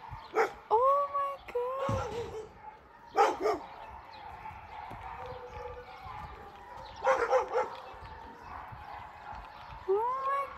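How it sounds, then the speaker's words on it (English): Several dogs bark and yip in short bursts, some near and some farther off, with whines between barks. "Why are they all barking?"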